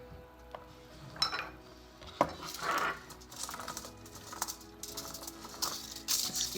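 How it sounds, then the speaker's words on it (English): Thin pencil asparagus spears laid out one by one on a foil-lined baking sheet, with close, crinkly taps and scrapes of foil and light handling clatter that come in scattered bursts. "I'm going to put it on a foil lined baking sheet and try to get it in one layer"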